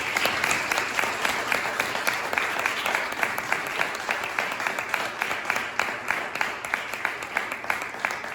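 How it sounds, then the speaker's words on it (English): Sustained audience applause at a county executive candidates forum, many hands clapping steadily and densely throughout, fairly loud and even with no voices rising above it. "please give them a round of applause"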